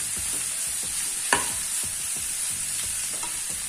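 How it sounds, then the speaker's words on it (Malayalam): Small onions (shallots) frying in a pan for a Kerala chicken roast, a steady close sizzle with repeated scraping stirs and one sharper clack of the spoon, no talk. "ഇതിലേക്ക് ചെറിയുള്ളി ഇട്ട് കൊടുക്കാം. ഇത് നല്ലോണം വാടി വരട്ടെ."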